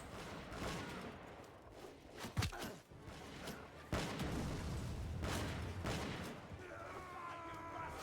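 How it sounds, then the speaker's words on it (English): Musket volleys from a line of soldiers in Bannerlord set in Europe 1700, scattered sharp cracks and booms popping irregularly over a few seconds amid battle noise. "Alright, soldiers, just keep firing. Fire away, men! Fire away!"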